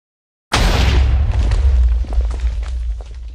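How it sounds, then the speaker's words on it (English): After a brief silence, a massive explosion tears through a granite mill building, a loud deep boom that rolls on with rumbling debris and decays slowly. "a massive explosion blew the granite building apart, shattered windows in nearby houses, and the blast was heard in neighboring towns"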